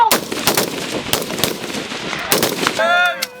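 Several sharp M16 rifle gunshots crack in quick, uneven succession during a military shooting competition, loud and close, with a brief voice at the end.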